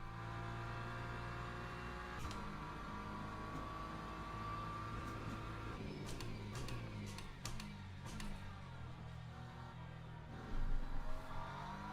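A race car engine in the Le Mans Ultimate racing sim revs hard under throttle, a sustained loud engine drone with shifting pitch, brief gear-change breaks and a surge near the end.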